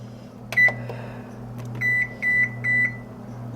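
An oven timer goes off after a pecan pie is set to bake, giving one short beep and then three longer electronic beeps in a row, clear and close over a low appliance hum.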